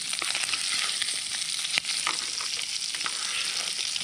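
Onions lightly frying in a pan at a campsite, a steady broadband sizzle throughout with occasional stirring clicks and scrapes, close and fairly loud.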